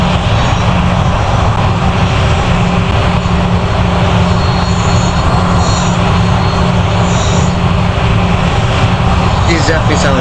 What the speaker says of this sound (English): like CFM56-ish 5B engines to me.